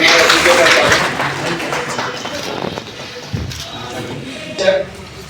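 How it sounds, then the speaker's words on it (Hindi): An audience's clapping at a National Voters' Day award ceremony starts fairly loud and gradually thins out, fading to scattered claps and room noise. "सभी आप ताली बजा करके हमारे सभी तालियों के साथ"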